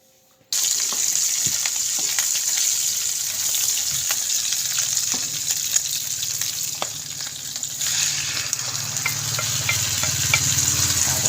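Quail pieces sauté with garlic and onion in a hot pan, making a dense, steady, loud sizzle that starts abruptly and runs on with light stirring clicks, heard close with no voices.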